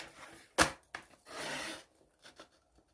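Paper for a gift box is cut up to the fold line with scissors, one sharp snip followed by a longer rasping cut and a few small soft snips, close and quiet with no talking.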